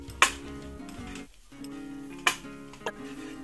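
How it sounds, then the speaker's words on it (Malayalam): Chocolate chips are mixed into cookie dough in a bowl, with a few sparse clinks and taps of a utensil against the bowl over a soft, steady background hum, close by. "ഈ ചിപ്സും ചേർത്തിട്ട് ഇതിന്റെ എല്ലാ ഭാഗത്തും ആവുന്ന രീതിയിലൊന്ന് മിക്സ് ചെയ്തെടുക്കാം."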